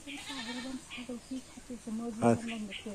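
A goat bleats close by in a short, wavering burst partway through, with quieter bleating around it and people talking.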